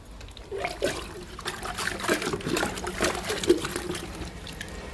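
Liquid plant fertilizer trickles and splashes from a container onto potted plants and their soil, a soft, uneven pour close by with no talking.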